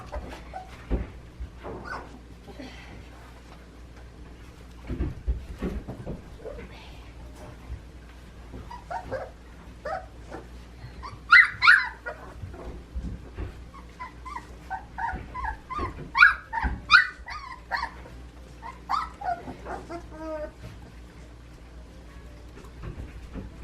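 Young puppies whimper, yip and squeal in short bursts while eating their first meal, close by, with occasional soft bowl and paw noises and no talking.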